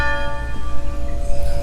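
A church bell rings out in a Merida neighborhood with a steady, sustained metallic tone and lingering overtones over faint outdoor background noise.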